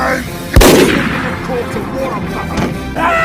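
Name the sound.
gun being wound up and fired, from a video game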